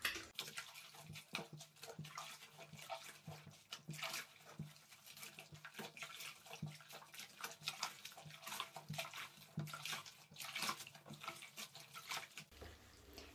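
A goat-down item is hand-washed in soapy water with dish detergent, producing soft, close sloshing and squelching splashes in an irregular rhythm, fairly quiet, with no voices.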